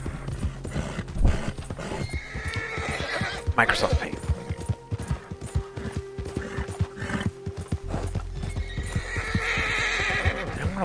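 A horse in the video game Red Dead Redemption clip-clops along with rapid rhythmic hoofbeats, giving a loud neigh partway through, while someone talks over it throughout.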